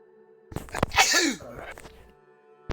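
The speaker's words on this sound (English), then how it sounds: "I sneezed." A single sharp sneeze bursts out at close range, with a couple of quick breathy sounds before it and near silence after.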